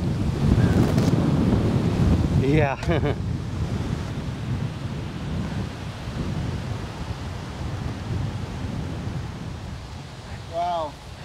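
Gusty wind roaring across the microphone at a park during a disc golf round, loud and continuous, with brief voices and a short exclamation near the middle and end.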